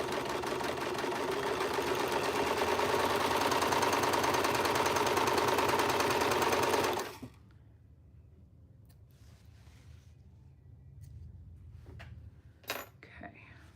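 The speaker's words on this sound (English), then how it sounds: "so I can get to my serger" A serger overlock sewing machine runs fast and steady for about seven seconds, close and fairly loud, then stops, leaving quiet room tone with a few soft clicks and handling knocks.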